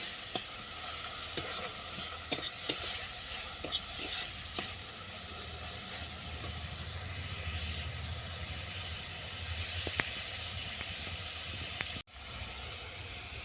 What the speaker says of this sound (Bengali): এগুলোকেও ভালো করে ভেজে নেব